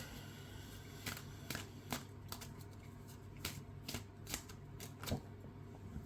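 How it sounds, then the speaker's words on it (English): Tarot cards are shuffled by hand in a series of quick, crisp riffling flicks at an uneven rhythm, close and quiet over a low background hum. "Shall I do some more cards? Okay, get some more cards here."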